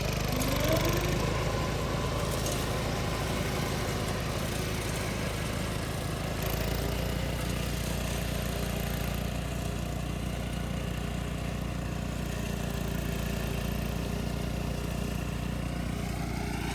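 A second-hand Japanese ride-on mower cuts pangola grass for cattle feed. Its engine drones steadily and loudly for the whole stretch, with a slight shift in tone partway through and no voice over it.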